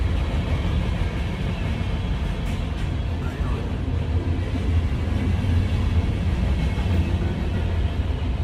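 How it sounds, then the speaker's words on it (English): A loud passing train rumbles steadily throughout, a dense low roar that drowns out everything else without a break. "I'm kind of waiting for the train, because this one's a really loud one and I can barely hear anything."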